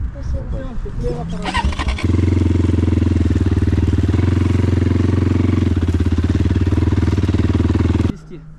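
A Kovi Pro 300 motorcycle engine starts and settles into a loud, steady close-up idle running for several seconds before cutting off, with brief talk and clatter before the engine fires.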